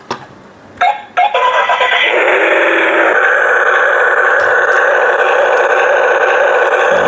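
A toy RC car switched on with its remote, a brief click and short burst followed by a loud, steady electronic whir and tonal drone that holds at a constant level.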